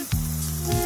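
Okra masala sizzles steadily in a pan just after the lid comes off, a close, even frying hiss with a low hum running beneath it and no voices.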